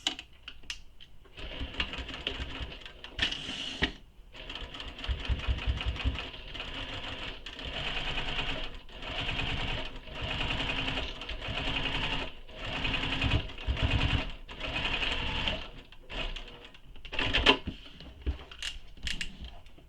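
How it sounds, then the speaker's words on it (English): A sewing machine topstitches along a bag seam in a series of short, uneven bursts of rapid stitching, with brief gaps and small handling clicks between runs, close by. "So now I'm going to top stitch along this seam."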